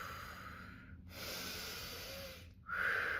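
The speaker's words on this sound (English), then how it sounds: "I am going to model the breath with an inhale through the mouth and an exhale through the mouth." Slow, deliberate breaths drawn in and pushed out through the mouth, each one a long, airy rush of a second or more with brief pauses between, close to the mic and alone.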